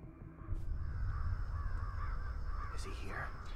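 Several crows caw in a video game, with harsh calls rising over a low ambient rumble and a louder caw near the end, while a player talks quietly.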